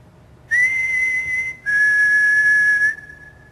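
A pair of loud, clear whistle blasts sounds inside the Morecambe Winter Gardens, each a sustained pure tone of about a second, the second slightly lower in pitch, against a quiet room.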